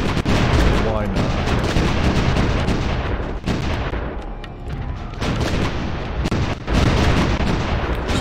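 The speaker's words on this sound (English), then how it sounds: "So right now our artillery is basically holding it back" Repeated artillery booms and gunfire rumble continuously in the strategy war game Supreme Ruler Ultimate, dense and loud with overlapping blasts, while someone talks over them.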